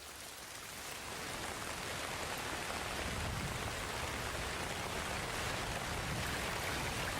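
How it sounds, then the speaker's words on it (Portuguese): Heavy rain in the Amazon rainforest pours down as a dense, even hiss of drops on foliage and surfaces, building slightly at first and then holding steady throughout. "as chuvas chegam com toda a força"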